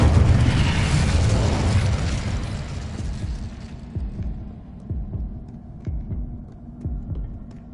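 A blazing whoosh from an Incendio fire spell in Hogwarts Legacy roars loudly at first, then fades into a low, throbbing hum with soft rhythmic pulses and no talking.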